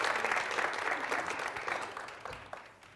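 Audience applause at a Valentine's Day couples game show, a brief burst of clapping from a modest crowd that starts fairly full and tapers off within three seconds.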